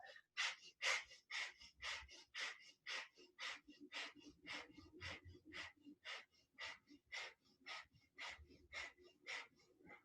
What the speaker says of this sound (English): we're going to do a steady, rapid breath in and out through the nose